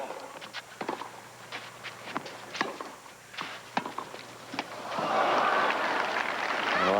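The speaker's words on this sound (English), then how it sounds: "You can hear the crowd starting to get into this match now" Tennis crowd at Roland Garros during Courier vs Ivanisevic in 1992, late in the fourth set: scattered claps and shouts swell into loud sustained applause and cheering in the final seconds, with ball strikes and murmuring before.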